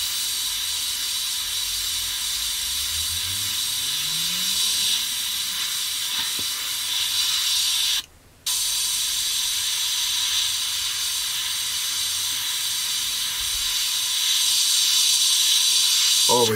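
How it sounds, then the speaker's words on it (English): Airbrush spraying Mr. Colour H77 Tyre Black paint on an Airfix 1/72 Jet Provost model kit, a steady close hiss running the whole time with one brief break in the middle. "We've got airbrush colour cut, and we're just going to spray in"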